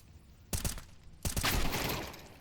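Two sharp broadband gunshot bursts from a Counter-Strike esports match, the first a quick double crack and the second a louder shot trailing into a sustained wash of in-game noise, with no talk.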